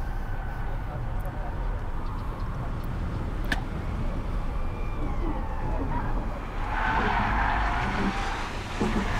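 A heavy car driven hard through a chicane on a race track, engine roaring at speed with tire noise rising toward the end, loud and continuous, with people talking over it. The cars include a Porsche Panamera and a Tesla Model S P100D.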